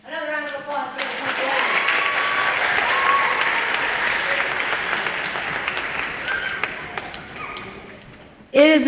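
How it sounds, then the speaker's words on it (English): A spring middle school band concert audience breaks into sustained applause that swells, holds steady for several seconds and then fades, with voices audible at the start and end. "Another round of applause for the"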